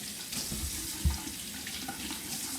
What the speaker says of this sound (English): Just rinse them off real quick.